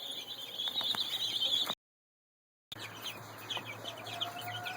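Young meat chicks peep in a brooder, a constant high chorus of chirping that runs continuously, breaks off into a second of silence, then resumes at a moderate level.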